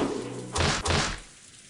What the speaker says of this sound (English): Jessica hit the door to the VIP room while yelling with all of her strength.